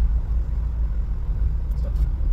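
A car idles and creeps through heavy highway traffic near Mangaon, with a constant low engine and road rumble close by and a brief faint higher sound near the end.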